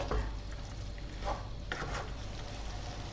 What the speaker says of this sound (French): je vais y ajouter tout de suite même une petite poignée de mozzarella râpée. Allez, je mélange.